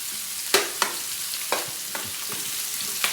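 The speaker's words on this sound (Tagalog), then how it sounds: "Gisa muna natin yan." Vegetables sauté in a hot pan for a spicy adobo fried rice dish: a bright, continuous sizzle broken by several quick spatula scrapes and taps.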